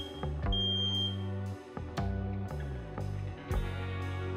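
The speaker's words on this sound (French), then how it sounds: "testez-le immédiatement à l'aide du bouton de test" A smoke detector's test button is pressed, producing a shrill, high-pitched alarm beep that sounds once for about a second, layered over loud background music with steady rhythmic chords.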